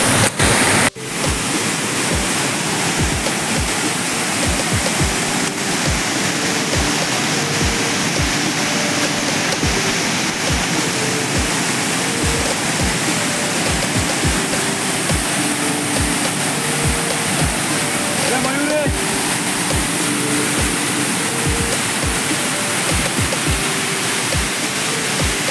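Sawatkada waterfall near Murud pours heavily from above, a loud, steady broadband roar of rushing water that holds constant throughout, with no voices.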